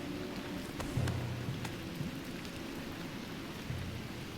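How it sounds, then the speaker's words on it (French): Rain in the video game Donkey Kong Bananza, a dense steady patter on surfaces with a low rumbling undertone and a few sharp drip accents, no voices over it. "Si on monte un peu, il pleut."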